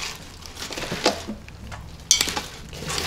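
Spinach is stirred into cooked pearl couscous in an Instant Pot, heard as soft, close scraping and rustling broken by two sharp clinks of a utensil against the metal pot, with no talking.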